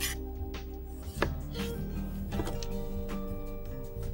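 Two tomatoes are cut in half on a cutting board in a kitchen, giving a few soft knife thuds over a steady humming background, fairly quiet and close.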